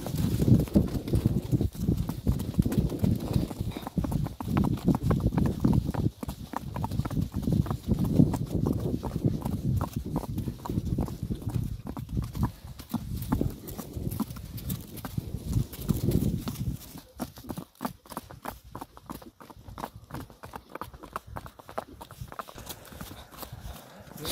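Kazakh breed horse hooves clip-clop steadily at a walking pace along a roadside, close and continuous, with the rhythm growing sharper and more distinct toward the end.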